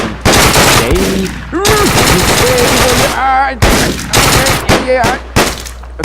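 Rapid gunfire bursts in the video game Deadbolt, loud and close, rattling out in several clusters with short gaps and a voice talking between shots.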